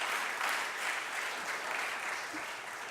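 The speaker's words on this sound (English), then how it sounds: "Give them a round of applause." An audience at a Big Brothers Big Sisters annual luncheon claps in a sustained, dense round of applause that holds steady, loud and full throughout.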